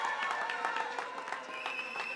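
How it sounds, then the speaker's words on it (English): A crowd at an election night rally applauds coalition partners, a short stretch of scattered, moderately loud clapping. "So can we give them a round of applause?"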